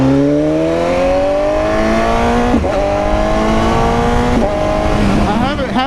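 A BMW S1000RR motorcycle engine under riding revs steadily upward through the gears, a loud, close, rising whine with brief dips at each shift and wind rush underneath, and someone talks over it.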